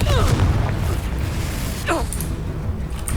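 A Confringo fire spell bursts in Hogwarts Legacy with heavy booming blasts and crackling pops, loud and close, mixed with vocal sounds and a short swooping effect partway through.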